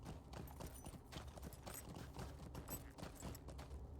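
Horse hooves clip-clop steadily while riding in the fantasy online game The Lord of the Rings Online, a continuous close rhythmic patter with faint game mechanism sounds and no talking.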